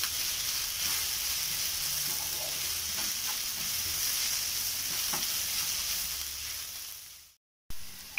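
Chicken sizzles steadily in a hot pan while being stirred with turmeric powder, a continuous close frying hiss with faint scraping, ending in a brief silence and a final clatter.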